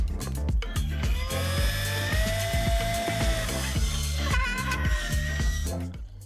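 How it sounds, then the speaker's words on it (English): A power drill drives screws into wooden boards as a 15 cm wide frame is assembled, with whining bursts of motor pitch over repeated knocks and clatter, close and continuous. "Fix two between each other with screws."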